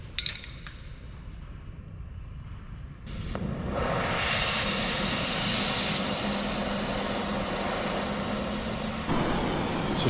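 An oxypropane cutting torch slices rivet heads off a fire engine. A few sharp pops give way to a loud, steady roaring hiss that holds for several seconds before briefly dropping and flaring again.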